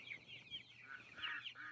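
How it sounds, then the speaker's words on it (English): Small chickens cluck and chirp softly in a quick series of short calls, faint and somewhat distant, with no talking. "Stay inside, little chickens."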